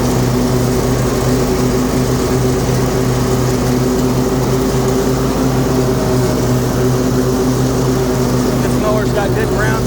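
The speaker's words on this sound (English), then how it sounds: "This mower's got good ground speed too." Troy-Bilt Mustang 50-inch zero-turn riding mower running, a loud steady engine hum with constant tonal drone, close up and continuous with no pauses.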